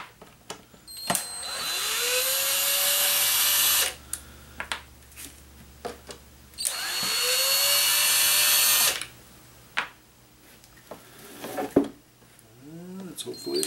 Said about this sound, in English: We'll start taking apart all these other screws.